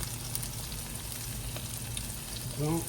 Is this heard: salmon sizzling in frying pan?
yes